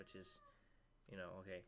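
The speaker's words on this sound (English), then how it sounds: "that's my cat howling at the other cat that we have" A house cat howling at another cat in the home, drawn-out moaning cries picked up faintly in the background, partly masked by a person speaking.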